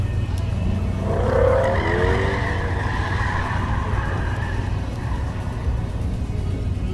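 Drifting cars at the SEMA show, tires squealing in a drawn-out screech over a steady engine drone, heard from a distance amid the trade-show hall ambience.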